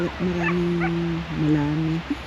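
A nearby dog lets out a few high, drawn-out whimpers and whines, with short pauses between them.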